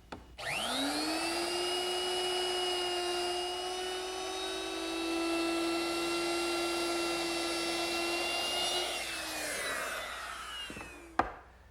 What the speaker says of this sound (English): I'm going to use my router, which is equipped with a 3/8 inch beading bit